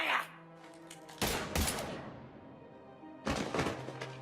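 Gunfire in the Mass Effect 3 video game: three separate bursts of weapon shots with sharp impacts, each followed by a decaying ringing tail, loud against a quiet musical bed.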